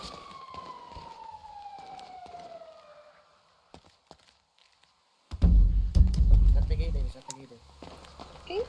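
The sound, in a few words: siren in a video game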